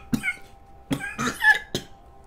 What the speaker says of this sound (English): Oh god, so much coughing.